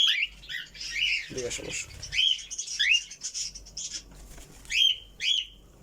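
Pet birds squawk and chirp in repeated sharp bursts close by, with a brief flutter of wings as they land on their owner's head; someone speaks briefly.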